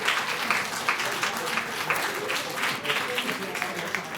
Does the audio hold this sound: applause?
yes